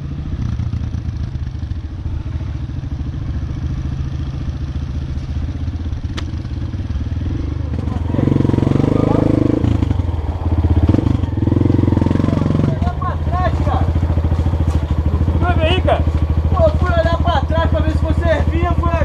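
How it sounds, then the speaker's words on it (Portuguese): A motorcycle engine runs on a dirt trail after the bike slid and fell, a loud steady drone that swells and revs, while people shout and talk over it nearby. "Pô, a moto rabiou, caiu."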